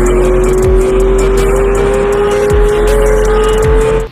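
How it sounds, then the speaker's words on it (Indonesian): A red Lightning McQueen toy race car plays a loud, steady electronic engine whine that climbs slightly in pitch, with a few short swooping accents, for about four seconds and no talking. "di sini ada mobil balap Lightning McQueen"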